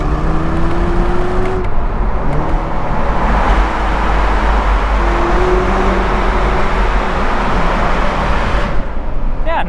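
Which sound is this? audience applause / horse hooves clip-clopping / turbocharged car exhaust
turbocharged car exhaust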